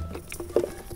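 A second of soft, uneven pattering like raindrops landing, with a few faint tonal bits mixed in.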